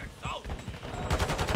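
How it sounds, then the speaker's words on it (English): Shotgun blasts in a video game, a burst of loud gunfire ending in a broad noisy blast near the end, with game sounds and brief voices mixed underneath. "Shotgun."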